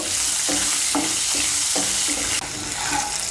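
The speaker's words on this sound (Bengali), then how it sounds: "মিশিয়ে নিয়ে আঁচটাকে মিডিয়াম করে আলুটাকে একটু ভেজে নেব।" Cut potatoes frying in oil over medium heat, a loud close sizzle with a regular rhythm of spatula stirring strokes and no talk.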